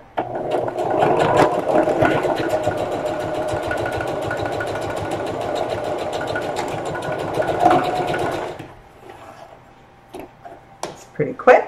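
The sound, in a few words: sewing machine sewing a 1/4 inch seam on a lunch tote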